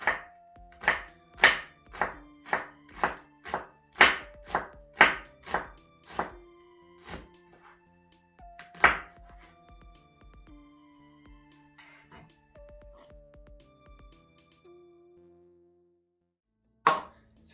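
A kitchen knife chopping leeks into half moons for potato and leek soup on a cutting board, a brisk run of close, sharp, evenly spaced chops that slows to scattered cuts and light board sounds.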